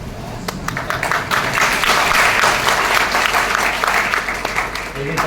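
A large audience claps steadily and densely, a sustained wash of applause at a religious discourse that rises after the first second and holds through to the end, with no voices speaking over it.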